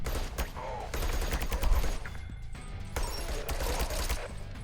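Rapid bursts of gunfire in the video game Sentry crackle in dense volleys, loud and continuous, with brief lulls between strings of shots and no talking.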